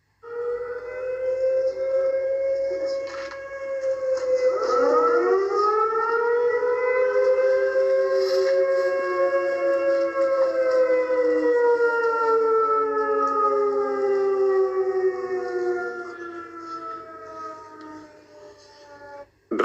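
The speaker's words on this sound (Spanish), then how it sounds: "qué es esta sirena que has oído en Alicante" Civil defense siren wailing in Alicante, Spain: one long, loud rising-and-falling tone with a dip and swell midway, sustained for nearly twenty seconds before cutting off abruptly.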